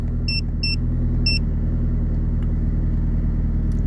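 A Mazda 3 BK MPS engine idles cold at just over 1,000 rpm with a steady, even low rumble, close and constant throughout, while three short electronic beeps sound early on.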